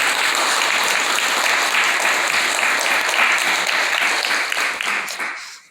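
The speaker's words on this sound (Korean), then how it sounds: "감사의 박수" A congregation at a climate justice Mass held in the National Assembly applauds in thanks, loud sustained clapping from many hands that fades out at the end.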